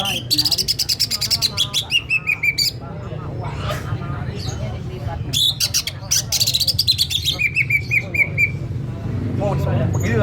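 Green leafbird (cucak ijo) singing loudly with rapid, high chirping and trilled phrases in bursts, over a low steady background hum, with voices talking nearby.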